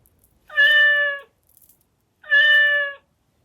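A Chongker Percy interactive robot cat toy gives two loud, electronic-sounding meows at raised volume, each about a second long, separated by a short silence.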